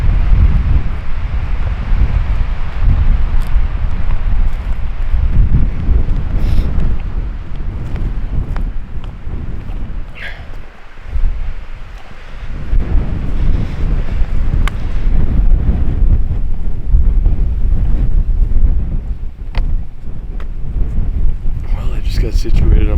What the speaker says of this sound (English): I'm facing dead into the wind